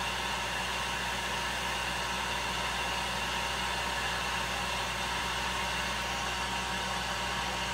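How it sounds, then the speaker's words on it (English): A heat gun reheats a powder-painted jig head, giving a steady, loud, unbroken blowing roar with no speech over it. "I go back to my heat gun. I heat it up again."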